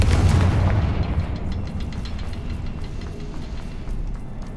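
A Confringo fire spell explodes in the video game Hogwarts Legacy, a loud booming burst at the start that rolls off into a long, dense rumble.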